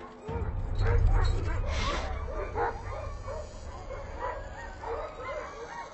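Dogs bark, yip and whimper close by in an icy setting near an approaching hungry polar bear, a steady cluster of yelps and whines over low rumbling noise through the whole stretch.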